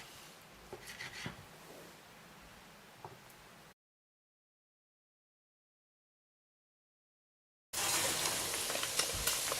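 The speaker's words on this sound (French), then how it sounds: "là la graisse elle est en train de fondre" Soft, steady sizzling of diced animal fat melting in a pan with faint crackles. After a stretch of silence, a louder, busier frying hiss returns.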